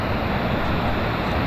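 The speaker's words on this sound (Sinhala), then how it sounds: "නගල් සැල්ලට උඩහා ඉඳන් එකතු වෙලා එන වතුර පාර තමයි මේ." A swollen mountain stream rushes hard and close, a dense, steady roar of water with no break or talk.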